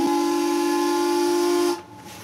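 A steamboat whistle on a lake blows one steady, loud, hissing tone close by, holding for nearly two seconds before cutting off abruptly into a faint hiss.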